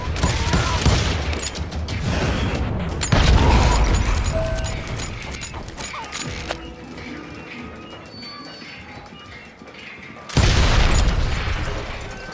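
Gunfire from the Western shooter Call of Juarez Gunslinger plays as loud bursts of rapid shots and booms, then a quieter stretch of clanks and mechanical noise, before another heavy volley returns.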